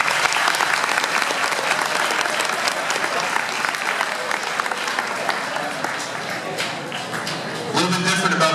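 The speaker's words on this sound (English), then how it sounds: "give yourself a round of applause right now" Audience applause at an eighth grade school award ceremony held in an air-conditioned commons, a dense continuous clapping that thins slightly near the end as a voice begins over it.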